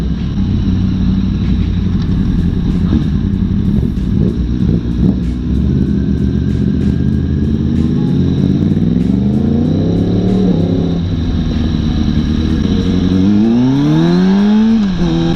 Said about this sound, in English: That's a Yamaha XSR.